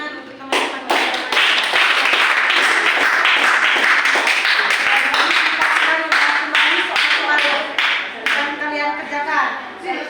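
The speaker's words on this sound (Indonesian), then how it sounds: "Oke, kita beri tepuk tangan untuk teman-teman." A classroom of students breaks into applause, clapping loud and dense for several seconds before thinning out, with voices heard alongside it.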